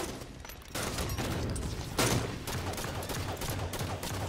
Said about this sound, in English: I feel like everybody's shooting me right now.